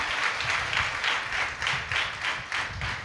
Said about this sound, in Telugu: గట్టి క్లాప్స్ కొడాలి